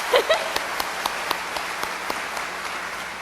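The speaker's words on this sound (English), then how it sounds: "let's give a round of applause" A school district convocation audience gives a round of applause, heard as a fairly distant, diffuse spread of clapping at moderate volume, with a faint voice at the very start.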